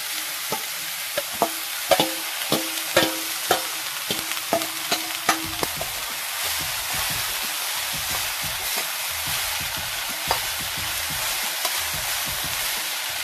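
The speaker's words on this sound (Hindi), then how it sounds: "हल्दी दे दिया है देखिए जंगली सब्जी हल्का सा फ्राई कर लेता है पहले" Wild vegetables fry with turmeric in a pan on a village stove; a utensil clatters and scrapes in quick bursts at first, then a soft, steady sizzle continues alone.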